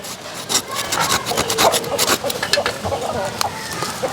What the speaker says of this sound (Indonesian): aku lagi gergaji dia